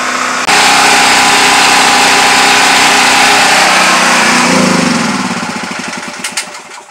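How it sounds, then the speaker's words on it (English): A DuroMax dual fuel generator engine running on propane roars loudly and steadily, then sputters and winds down as its fuel runs out, fading to a stop near the end with a few final rattles. "let the engine run until it's off"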